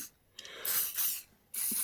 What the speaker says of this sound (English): I'll just give the O-rings a bit of a spray with some silicone spray